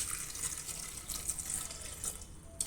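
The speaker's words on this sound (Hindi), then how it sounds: "पानी डाल दें।" Water pours from a tap into a pressure cooker holding ripe jackfruit seeds in a home kitchen, a steady, moderately loud splashing stream running the whole time with no talk.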